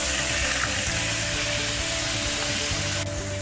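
Wine hits a hot pan of leftover chicken fat and oil, and a loud, steady sizzle and hiss runs throughout with no let-up, close and bright.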